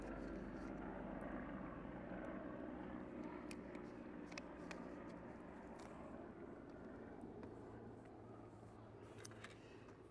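An airplane passes overhead, a steady, broad, fairly loud engine roar that fills the whole stretch and eases off slightly toward the end, with no talking.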